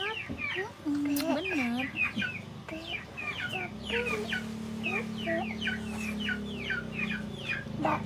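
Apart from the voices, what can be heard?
chicken clucking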